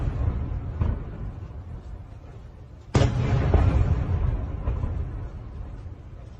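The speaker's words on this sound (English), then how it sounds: "We hear the explosions of the missiles in the distance." Distant missile explosions during the war in Ukraine: a sudden heavy boom about halfway through, then a long low rumble that slowly fades, with fainter thuds around it.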